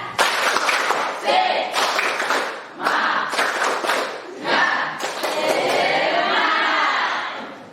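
A class of students claps together in a patterned rhythm, mixed with shouting voices, loud and close, ending in a sustained burst of clapping and cheering.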